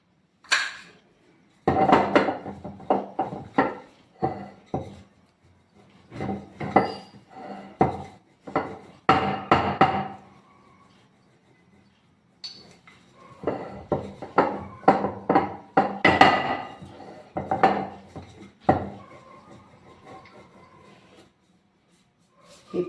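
A rolling pin presses a sesame sweet mixture topped with pistachio slices, made for Sankranti, in repeated short rasping, rubbing strokes with brief pauses between bursts; no talking.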